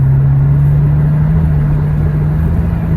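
An Acura TL with a transmission fault, its engine giving a loud, steady low hum from inside the cabin during a gear change, with no voices.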